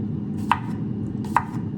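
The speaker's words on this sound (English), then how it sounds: "Oh, slicing is so much better the old school way." A knife slices food by hand on a cutting board, two crisp, close cuts about a second apart over a low steady background hum, with no talking.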